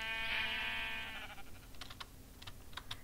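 Sheep bleat in the Minecraft video game, a loud harmonic bleat at the start followed by a few short clicky bursts like keyboard typing.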